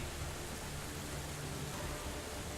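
Rain in the Steins;Gate 0 video game, a steady broadband hiss with a low rumbling layer underneath, continuous and fairly faint with no voices.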